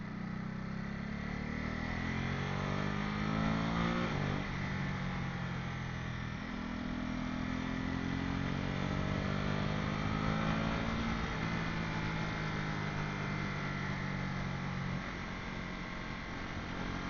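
A motorcycle rides along a winding road, its engine a steady, fairly faint drone with gentle rises and falls in pitch as it shifts and changes speed, under constant wind rush.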